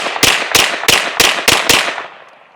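A Smith & Wesson FPC carbine fired at a shooting range: six loud, sharp reports in a quick, even rhythm, each followed by a short echoing tail that fades out after the last shot.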